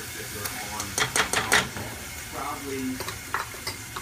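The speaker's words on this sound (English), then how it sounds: "I'm going to start putting my beans." Pink beans tipped into a pan of yellow rice and stirred, with scraping and stirring strokes and a low sizzle, busiest in the first half, plus brief voice sounds under it.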